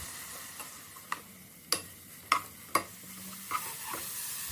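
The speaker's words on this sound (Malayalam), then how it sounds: "അടുത്തതായിട്ട് ക്രാബ് മീറ്റ് ചേർത്ത് ഇളക്കി യോജിപ്പിക്കുക." Crab meat stirred into frying onion and spices in a pan, a soft background sizzle broken by several sharp, evenly spaced taps of a spoon against the pan.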